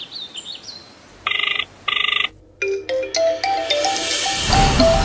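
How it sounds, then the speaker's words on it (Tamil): A mobile phone signals an incoming call with two loud electronic ring bursts, followed by a brighter melodic ringtone that plays on, with a soft chirping tone beforehand. "ஃபோன் பண்ற சம்பந்தி."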